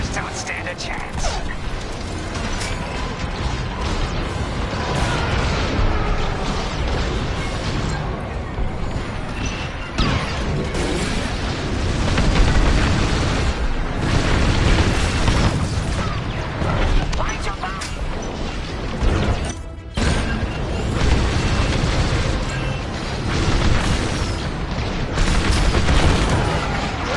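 Heavy explosions and mechanical clatter as bombers are destroyed in a Star Wars space combat video game, a dense, continuous roar of booms and firing that runs without a break, with game voices speaking over it.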